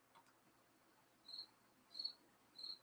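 A crickets sound effect plays during a video call: three short, bright chirp bursts in a loose rhythm, quiet and alone over faint background hiss.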